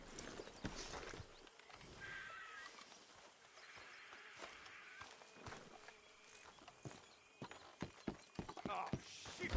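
Horses in the Red Dead Redemption 2 video game, with hoof clip-clops and an occasional whinny or snort mixed among scattered game sounds and shuffling, moderately close and fairly busy throughout.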